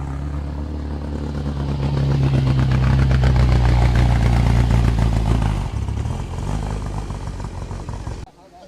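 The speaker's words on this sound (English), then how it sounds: "Fiat 500 just coming in." A classic Fiat 500 drives in at a car show paddock, its small engine giving a steady, loud mid-pitched drone that rises and then eases off before cutting away, with people talking faintly around it.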